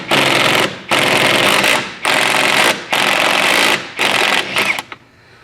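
A Ryobi 3/8-inch drive impact wrench hammers loudly in five bursts of rapid rattling, each about half a second to a second long with short pauses between, the last ones shorter and choppier, while loosening a nut on a 1972 VW Super Beetle.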